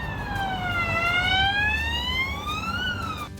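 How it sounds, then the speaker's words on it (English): Emergency vehicle siren wailing through a Brussels street, a loud continuous tone that slowly falls, then rises and dips again, over steady city background noise. "And we heard sirens, lots and lots and lots of sirens."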